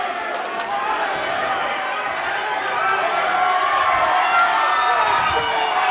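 A fight crowd at an XFC mixed martial arts event roars in a standing ovation, a dense, sustained wall of cheering and shouting that swells slightly toward the end, with a commentator's voice beneath it.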